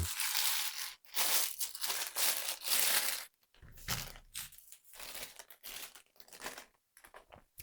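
Close, crisp crinkling of a small thin cellophane bag holding a Skif Adventure fixed-blade knife, handled in irregular bursts with short pauses between rustles.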